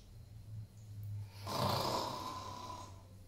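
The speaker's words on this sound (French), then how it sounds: "Père Noël, il ronfle" A Santa Claus figure snores once in a long, rasping breath, faint and close, with a low steady hum underneath.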